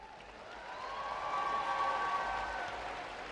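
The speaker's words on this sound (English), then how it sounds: "Let's give them one more applause." An arena audience applauds steadily, a dense wash of clapping that swells slightly and holds without cheering or talk.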